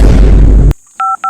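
A telephone keypad dialing a call to the fire brigade gives short, clear DTMF beeps in quick succession, heard right after a loud booming burst that cuts off abruptly.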